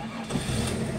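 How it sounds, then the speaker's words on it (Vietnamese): A Ford Escape engine cranking and catching, then settling into a low idle, close and fairly loud. "Đây, em sẽ nổ máy cho anh em này. Nổ máy cho anh em để anh em cùng nghe nhá."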